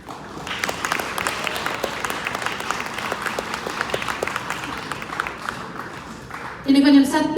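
Sustained applause from a sizable crowd at a ceremony honoring European artists, steady and dense for several seconds, ending in a burst of louder music or cheering.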